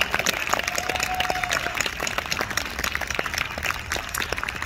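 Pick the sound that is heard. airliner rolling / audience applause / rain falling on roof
audience applause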